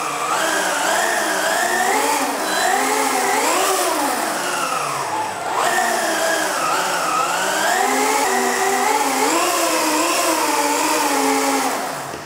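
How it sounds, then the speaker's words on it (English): The electric motor of an electric vehicle on a power-analysis test setup hums loudly and steadily, its whining tones rising and falling in pitch as the speed changes, with no talk over it. "as soon as I start the vehicle, we already will see our readings"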